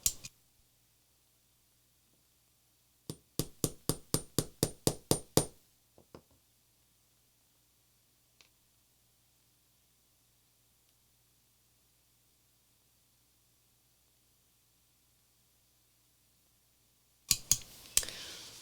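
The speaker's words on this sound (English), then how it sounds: "it takes a few taps with the hammer" A small hammer taps a metal collar into place on a handmade art journal built from recycled pockets. A quick run of about ten sharp, close taps comes in the middle, then a few isolated knocks, and a final short burst at the end.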